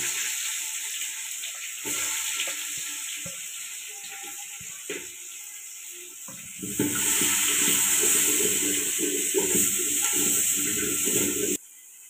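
Bay leaf, cinnamon and onion sizzling in hot oil while cooking a vegetable and lentil dish, a steady hiss that swells louder midway, with intermittent clatter.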